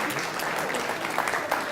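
Dense, even applause from an audience at an awards ceremony fills a brief moment without a break.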